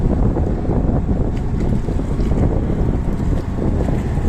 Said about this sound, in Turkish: Evet taksi gibi döndü motor şimdi gidiyor.